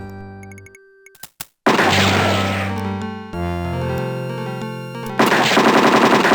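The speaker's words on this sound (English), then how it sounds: "Without warning, you hear gunshots out in front of the saloon, plus lots of yelling and shouting." Rapid bursts of gunfire out in front of the saloon in the Western adventure game Freddy Pharkas: Frontier Pharmacist, loud staccato shots after a few scattered beeps, layered with synthesized game music and noisy crowd clamor.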